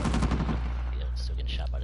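Gunfire in the video game Uncharted 4 comes as a quick automatic burst of several rapid shots, loud and close, then fades into a low steady background hum.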